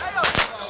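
A single sharp firework bang with a brief crackle around it, heard during a fireworks display; one loud burst lasting a fraction of a second.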